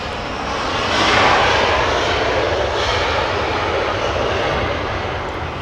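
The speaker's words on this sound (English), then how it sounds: "will we have all 3 head north for departure?" An airliner departing Los Angeles International Airport produces a loud, steady jet engine roar that swells slightly and then holds as a broad rushing drone, with no talk over it.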